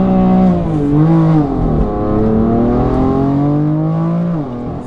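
A modified 700bhp BMW M4 F82 revs loudly and close by, its engine note climbing and dipping in several sweeping pulls before settling into a sustained high drone.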